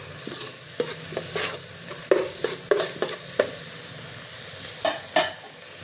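Fennel seeds, ginger and garlic fry in oil and ghee on an electric cooker, with a soft sizzle under repeated sharp clacks and scrapes of a spoon stirring the pan.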